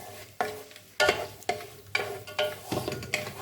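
Onion and spices frying in a pot for chicken biryani while being stirred, heard as repeated scraping stirs over a soft background sizzle, close and moderately loud.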